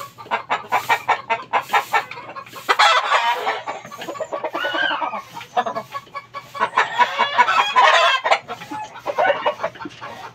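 Several chickens, fighting roosters and hens, cluck in quick bursts, with a rooster's crow mixed in, close by and fairly loud, no talking.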